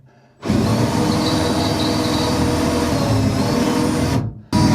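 A loud, steady whine of a power drill with a dull bit drilling a hole, running continuously for several seconds, then cutting off abruptly.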